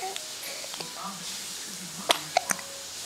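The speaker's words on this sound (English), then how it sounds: "You having hiccups?" Several small, sharp baby hiccups pop out in quick succession, with soft murmuring voices and quiet background sounds around them.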